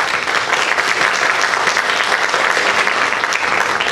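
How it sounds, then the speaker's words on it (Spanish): Sustained applause from an audience at a community ombudsman office closing ceremony, steady dense clapping throughout at close range with no voices standing out. "¡Aplausos para ella!"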